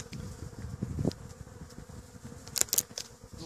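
Honeybees buzz close by at a Warré hive entrance, a soft wavering hum with individual bees flying past, and no talk.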